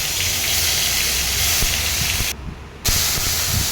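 Spices for a tempering hit hot oil in a vegetarian Bengali kitchen, giving a loud, continuous spitting hiss that cuts out briefly and then flares back up.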